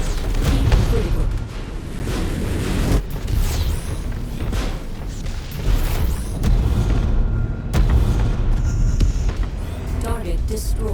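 Mech weapon fire and explosions in MechWarrior 5: Mercenaries, heavy booming blasts and rumbling impacts that run continuously and loudly, with sharp cracks and bursts layered in, under a speaking voice.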